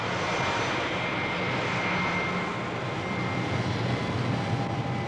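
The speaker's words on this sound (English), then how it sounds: "this aircraft will make its last routine flight of the day, an 80-minute journey north" A British Caledonian jet airliner at Gatwick Airport produces a loud, sustained engine drone that holds steady throughout, with no voices over it.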